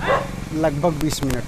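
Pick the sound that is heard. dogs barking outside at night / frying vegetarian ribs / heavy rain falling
dogs barking outside at night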